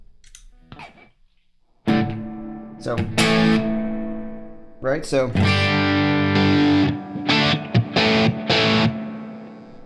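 An electric guitar played through an overdrive pedal into an amplifier with reverb turned up rings out in distorted chords and notes with long decaying tails, after someone speaks briefly.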